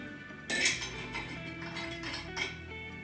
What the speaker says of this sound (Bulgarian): Продължаваме с чиниката, която също е брандирана.